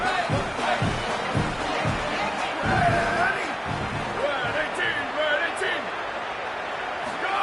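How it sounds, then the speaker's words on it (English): Stadium crowd roars steadily through the whole stretch, a dense loud wash of cheering and noise in an NCAA college football video game, with sharp thumps and bursts rising above it. "Crowd trying to make an impact, helping the defense on this crucial play."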